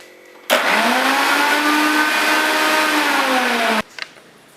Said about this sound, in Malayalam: ഇനി നമുക്ക് നമ്മളുടെ ഇഞ്ചി, മുളക്, പിന്നെ വെളുത്തുള്ളി ഇതും കൂടി ഒന്ന് പൊടിച്ചെടുക്കണം